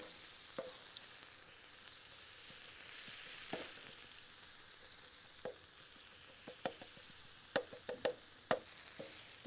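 Ginger garlic paste frying with onions in a pan for a tawa kalaiji masala, a steady low sizzle broken by sharp spatula scrapes and clicks that come more often toward the end; no voices.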